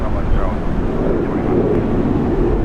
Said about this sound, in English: Dash 8 here, touching down in front of Jetstar, actually.